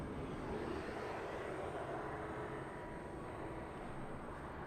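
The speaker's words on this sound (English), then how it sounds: "there goes the A350" An Airbus A350 airliner passing at LAX, its engines a steady broad roar that holds loud and even throughout, with no voices over it.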